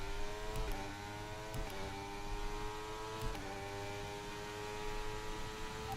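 F1 23 video game race car engine at a high, steady whine, with a few sharp pitch jumps as gears shift after an over-eager downshift, close and continuous with no talk.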